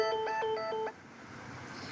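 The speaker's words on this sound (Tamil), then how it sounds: "இவங்க வேற ஃபோன் பண்ணிகிட்டே இருக்காங்கடா." A phone sounds for an incoming call as a series of short electronic ringtone beeps, three quick bursts of bright tones in close succession, then it cuts off and a quiet room hum remains.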